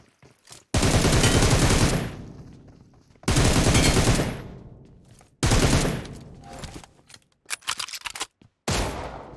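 Bursts of automatic gunfire in the mobile battle royale game PUBG Mobile, loud and close, coming in several long sustained volleys separated by short pauses, with no talking over them.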